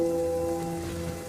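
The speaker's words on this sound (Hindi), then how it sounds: "इतनी बारिश हो रही है" Heavy rain pours steadily onto a surface in a continuous, dense wash, with a low, steady drone running beneath it and no voices.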